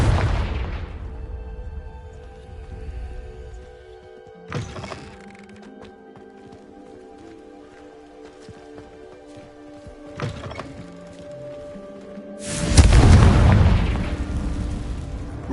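Fire spell blasts in Hogwarts Legacy: a deep boom opens, two sharper thumping bursts follow midway, and a loud rumbling explosion erupts near the end, with a faint hum between blasts.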